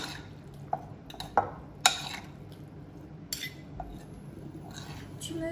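A carrot salad dressed with olive oil is stirred in a bowl, giving a few sharp, quiet clinks of a utensil against the dish and soft wet sloshing between them, close and fairly faint.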